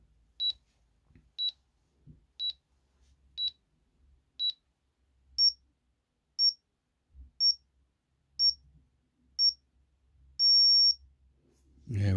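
Countdown timer beeps from a Jeti radio-control transmitter: five short, evenly spaced beeps each second, then five slightly higher-pitched beeps, ending in one longer sustained beep, clear and close in a quiet room.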